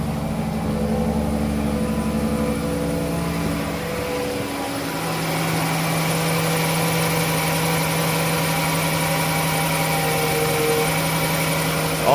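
A 2014 Dodge Journey with push-button start settles into a steady idle, the engine hum droning loud and close for the whole stretch with no talk over it.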